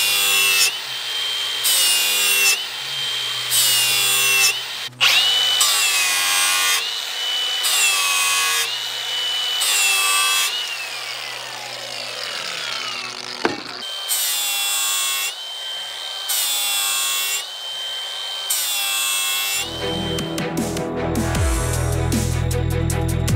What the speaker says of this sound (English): it's going pretty fast with that flap disc.